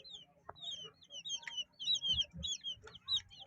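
Newly hatched chicks peep in quick, high, overlapping chirps, close by, with a few soft low clucks and thumps beneath.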